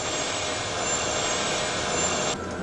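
Steady roar of jet engines at reduced power, broadband and constant with a high whine on top, droning without a break.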